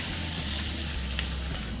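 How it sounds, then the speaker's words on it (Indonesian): Onions frying in butter in a pan for an old-style Japanese curry, giving a steady, close sizzle with a low hum beneath and no voices. "Kita goreng bawangnya"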